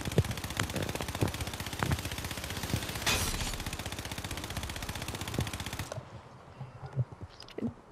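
Rapid, continuous automatic gunfire from a video game plays through headphones in a trios match. Dense bursts and sharp shots go on for about six seconds, then drop away to a quieter tail with a few faint hits.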